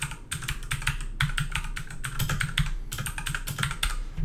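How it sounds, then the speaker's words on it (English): Budget mechanical keyboard, about fifty dollars, typed on in quick bursts of crisp clacky keystrokes, close and clear with brief pauses between runs. "there's a little quick sound test of the keyboard"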